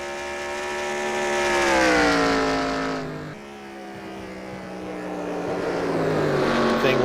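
Monster Energy Cup car engine in the NASCAR Racing 2003 sim rises in pitch, drops sharply, then climbs again, a moderately loud harmonic whine heard alone without talk.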